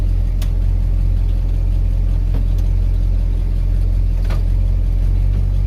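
A 1970 Dodge Charger with a 413 V8 and 727 automatic idles steadily at close range, a loud continuous low rumble with a few faint clicks and no voices over it.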